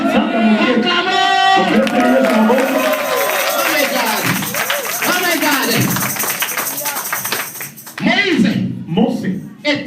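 A church congregation in France claps and cheers during a service, a dense mix of hands and raised voices that swells, briefly dips, then surges again near the end.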